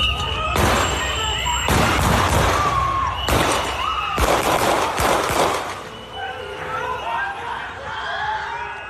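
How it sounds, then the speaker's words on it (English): Several loud, sharp gunshot bursts in quick succession in news footage, crackling through the recording with chaotic voices and noise between them. "Multiple gunshots are heard shortly after"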